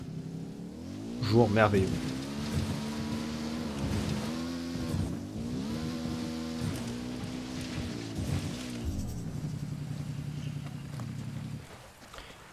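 A vehicle with tires grinds through swamp mud in Ghost Recon Wildlands, its engine droning and rising and falling in pitch as it labors and shifts, with a short spoken phrase near the start.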